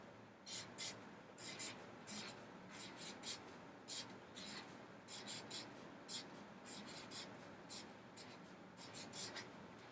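Pen or pencil writing out a vocabulary list in a classroom, quick scratchy strokes in irregular bursts throughout, close and fairly faint with a soft room background.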